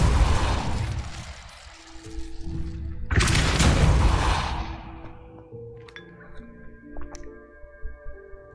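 Spell-casting effects in a Harry Potter video game: loud fiery whooshes and booming blasts, a big burst in the middle, then fading into quieter magical chimes and shimmering tones.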